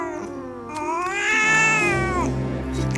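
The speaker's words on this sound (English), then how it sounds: "Cats are everywhere." A house cat lets out a single long, rising and falling meow close by, drawn out like a plaintive caterwaul over a low background hum.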